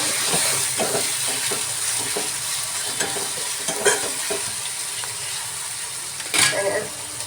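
Garlic paste and turmeric fry and hiss in a pan while being stirred, a constant close sizzle broken by scraping clicks of the spoon and a sharper burst near the end; a voice can be heard faintly.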